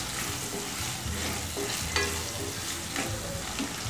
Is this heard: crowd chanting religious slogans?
no